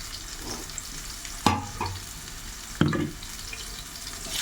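Potatoes, whole onions and garlic fry in a pan for a spicy duck masala curry, a steady low sizzle broken by two brief scraping stirs about a second apart.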